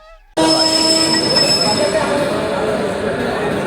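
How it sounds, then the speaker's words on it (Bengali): Main line local train pulling out, a loud sudden onset of wheel roar and screeching rail noise heard from on board, continuing steadily after a quiet start. "আমাদের মেন লাইন লোকাল এসে হাজির হলো বসার জায়গাও পেয়ে গেলাম আর ট্রেনও ছেড়ে দিল"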